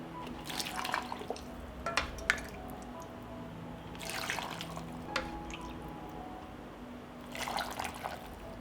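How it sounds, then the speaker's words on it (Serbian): Hot brine being poured into glass jars for preserving tomatoes, quiet bursts of liquid trickling and splashing in three separate pours with soft drips and pauses between them, fairly close and faint. "Vreo preliv sipat ću u tegle."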